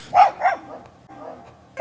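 A dog barks twice in quick succession, close and loud, then pauses with a softer whine before another bark begins.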